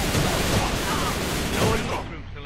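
Dense rifle gunfire in the online shooter A.V.A, a loud, continuous burst of rapid shots filling the clip before cutting off near the end, with a voice talking over it.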